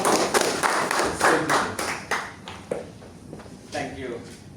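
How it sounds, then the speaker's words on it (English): Scattered, uneven clapping from a small audience at a Toastmasters club meeting, with separate sharp claps thinning out over a few seconds rather than a full dense ovation. "Please give a round of applause to Toastmaster"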